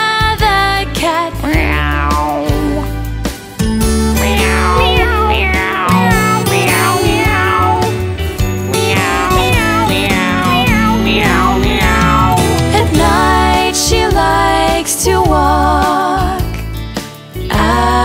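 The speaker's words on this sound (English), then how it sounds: "She's the funniest, prettiest cat, Gurulina the cat" In a children's song about a cat, repeated sung meows ride over bouncy music, with melodic cat-like calls rising and falling throughout, loud and continuous.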